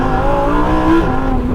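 A 2022 Lamborghini Huracan engine revs hard and loud at the start of a launch control start, a dense sustained roar that holds steady, with no talking.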